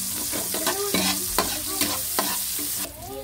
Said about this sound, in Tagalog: Dito din sa pinagprituhan ko ng kikiam, tayo nagisa ng bawang.